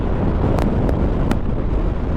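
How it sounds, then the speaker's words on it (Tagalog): Steady, loud wind roaring and buffeting the microphone throughout at Pantabangan, Philippines, with a few brief higher-pitched bursts cutting through the rumble. "napakalakas ng hangin"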